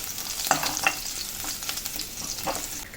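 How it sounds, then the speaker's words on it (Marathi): Crushed garlic fries in a pan for a mixed sprouts curry, a soft steady sizzle with a few scraping stirs near at hand, no voices present. "लसूण चांगला भाजून घेऊया आता आपण"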